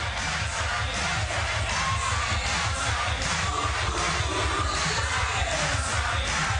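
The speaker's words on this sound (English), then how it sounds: "That's got the crowd rocking again." Crowd noise at a beach volleyball world championship final, a broad, continuous roar of spectators cheering and rumbling at a steady level throughout.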